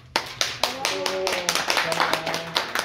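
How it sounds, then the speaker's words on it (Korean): A small group claps in a quick, uneven burst of applause at the close of a Korean folk song lesson in Mexico, with voices speaking and brief sung or called tones underneath. "박수."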